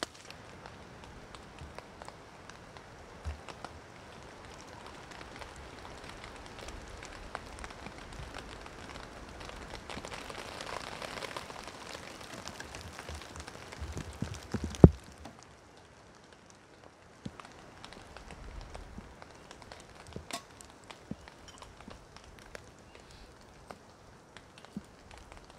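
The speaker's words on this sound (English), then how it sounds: "Still raining." Rain falls steadily on a tarp tent at a camp, making a soft, faint patter that is close and continuous, with a sharp knock partway through and occasional small taps afterward.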